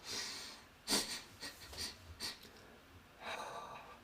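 A person imitates sniffing with several short, breathy nasal inhales, followed by a longer airy breath.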